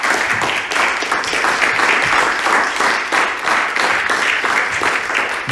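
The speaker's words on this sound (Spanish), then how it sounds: "Un aplauso a Jesús." A church congregation applauds together, dense steady clapping that fills the room at a constant loud level with a few voices mixed in.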